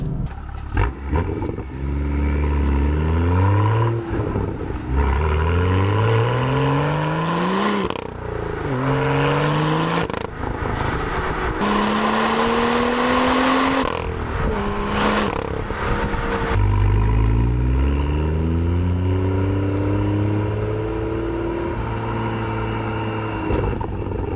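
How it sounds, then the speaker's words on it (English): A BMW M2's loud exhaust revving up through several gears, rising whines repeating, with crackling pops between shifts and a rumbling idle. "the next thing I really love about the BMW M2 is actually the exhaust note."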